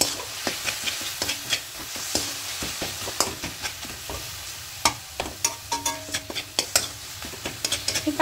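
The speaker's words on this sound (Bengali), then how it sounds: "জলটা পুরো শুকিয়ে যাবে ততক্ষণ পর্যন্ত এভাবে নাড়তেই থাকবো" Coconut filling being stirred in a wok until dry, a steady run of soft scraping and tapping strokes from the spatula over a faint sizzle, close and fairly quiet, with no voices.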